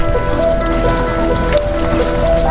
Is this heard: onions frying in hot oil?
no